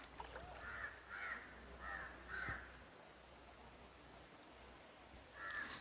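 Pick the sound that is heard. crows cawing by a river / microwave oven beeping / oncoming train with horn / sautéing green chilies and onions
crows cawing by a river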